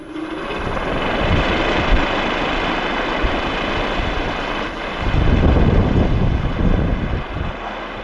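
A homemade wind generator starting up and spinning in a light wind of about 3 to 4 meters per second, giving a steady whirring hum over gusty outdoor wind noise that swells louder near the end.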